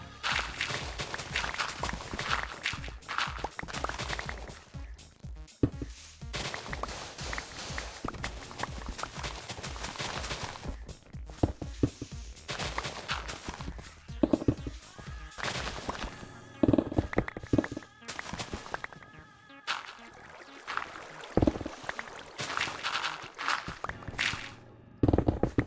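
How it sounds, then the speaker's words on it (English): A TNT bombing machine in a building video game sets off a long rapid series of sharp popping explosions, crackling like fireworks, dense and loud, with a few brief pauses. "I use TNT bombing machine."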